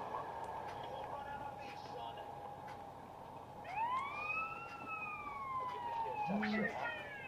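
In GTA San Andreas on mobile, a police car siren wails in rising and falling sweeps over a street ambience. It rises to a louder pass, and a voice talks over it.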